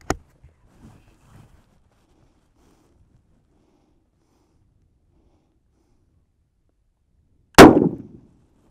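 A single sharp rifle shot from a Howa Oryx chambered in 6.5 Grendel cracks out loud and close near the end, ringing briefly after a long quiet stretch with only faint handling noises.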